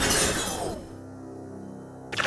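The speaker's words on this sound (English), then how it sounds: "Break the glass and then fire the Zero Cannon at the creatures that appear." Glass shatters in the Kiss Psycho Circus video game: a bright, loud crash with scattering shards, fading into a low hum before another sharp burst at the end.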